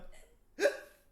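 A person imitates a hiccup with one short, sharp voiced gulp near the middle, close and clear, after a moment of faint background sound.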